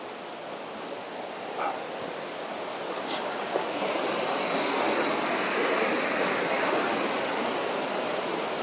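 Autumn waterfall at the Birks of Aberfeldy, a steady broadband rush of falling water that swells slightly louder partway through and continues without a break, with a few faint incidental sounds on top.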